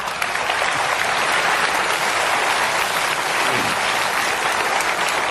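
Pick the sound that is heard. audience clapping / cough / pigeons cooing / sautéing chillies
audience clapping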